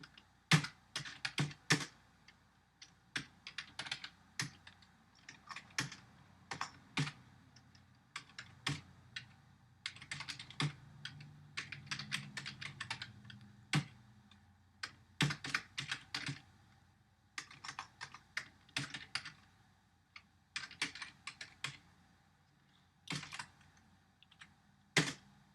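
Computer keyboard typing in clustered bursts of quick key clicks separated by short pauses, close and clear with no talking, as code is entered for a programming tutorial.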